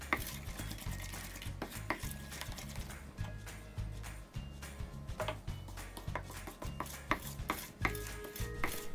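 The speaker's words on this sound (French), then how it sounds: "On ajoute un peu plus de lait, on mélange." Milk being stirred into cinnamon roll icing in a bowl, with soft repeated scraping and clinking of a utensil against the bowl in an irregular rhythm, close and fairly quiet.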